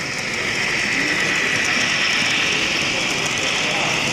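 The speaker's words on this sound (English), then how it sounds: "Another train passing us." A train rolls past close by in a model train setting, giving a steady, loud rushing and rumbling wash that holds at an even level throughout, with no voices over it.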